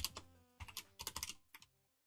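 Fast bursts of computer keyboard typing while code is being entered, close and quiet, clustered clicks with short pauses between groups that trail off into silence near the end.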